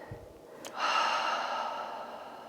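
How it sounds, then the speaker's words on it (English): A deep inhale followed by a long, slow exhale during a seasonal qigong practice, close and soft, with a brief intake giving way to a sustained airy breath out. "Take a deep breath in and long breaths out."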